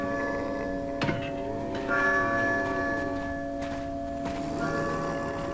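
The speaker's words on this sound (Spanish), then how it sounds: "Las campanas suenan. Oh, la campana. Es hora de rezar." Church bells tolling in the survival horror game Resident Evil 4, resonant ringing tones that sustain and overlap against a constant humming game ambience, with a sharp clank near the start.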